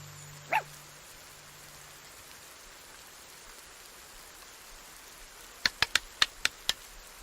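A scared dog in an adventure game gives one short bark early, then a quick cluster of five or six yaps near the end, over a faint rain-like hiss with long quiet stretches between.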